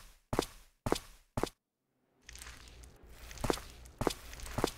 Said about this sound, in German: doch dann hörte sie Schritte nahen